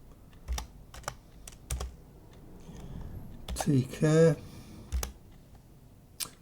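Rapid clicking keystrokes on a computer keyboard while entering text into a Linux package manager search box, a few spaced taps then a quicker run, with someone talking over part of it.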